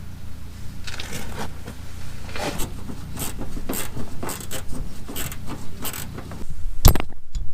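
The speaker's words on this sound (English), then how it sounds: "you've got it in such a way that you can get to it with the wrench" Close, steady metallic ratcheting and scraping as a wrench tightens a fuel fill pipe fitting on an R50 Nissan Pathfinder, with a sharp clank near the end.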